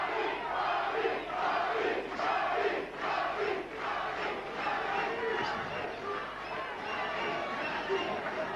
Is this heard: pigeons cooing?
no